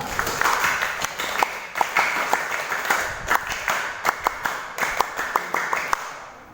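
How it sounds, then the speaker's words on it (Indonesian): Pramuka scout troop at a school gathering clapping together, a dense wash of applause punctuated by sharp, rhythmic claps in distinct patterned bursts, moderately loud in a room, no talk. "Dua kali tepuk Pramuka."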